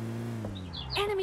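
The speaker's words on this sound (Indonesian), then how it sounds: "Burung gua bunyi." Bird chirps inside the PUBG battle royale game, a few bright high calls near the end over a steady low hum of game audio.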